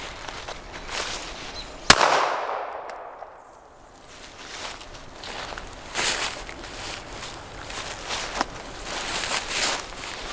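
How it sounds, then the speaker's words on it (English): A Ruger LCP Max .380 pistol loaded with Federal HST rounds fires once into a pumpkin at an outdoor range: one sharp, loud crack with a ringing, decaying echo, followed by quieter rustling and handling noise. "I'm gonna shoot it with the 380"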